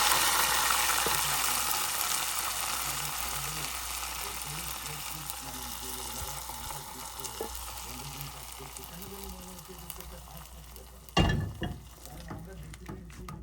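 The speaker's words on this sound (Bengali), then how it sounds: "এখন আমি এই নেহারির মধ্যে ঢেলে দিচ্ছি।" Browned fried onions poured into chicken-feet nehari, a broad hissing sizzle that slowly fades, ending in a sharp clatter and a few knocks near the end.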